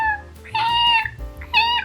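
A domestic cat gives two clear, drawn-out meows, loud and close, with a short pause between them and a low background rumble underneath.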